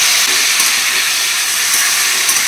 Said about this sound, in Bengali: জলে মশলাটা এবার দিয়ে দেবো।